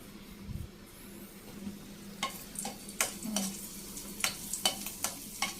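Curry leaf sprigs, cumin and dried red chillies drop into hot tempering oil for a homemade stone-ground chutney, giving a steady low sizzle broken by sharp crackles and pops that grow more frequent toward the end, close to the pan.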